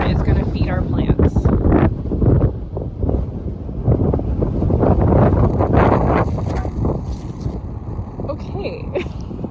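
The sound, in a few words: wind blowing outdoors in the garden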